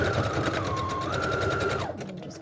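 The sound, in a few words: sewing machine stitching muslin pieces together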